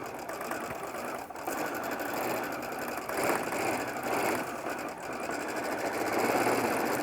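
A sewing machine stitches thread painting on a wall-hanging, its fast, even mechanical whir and needle chatter running continuously at close range with slight rises and dips in speed, and no talking.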